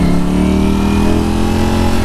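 Motorcycle engine revving steadily and loudly up close while the rider warms up the tires, a continuous mid-pitched drone with a rough low rumble and no pauses.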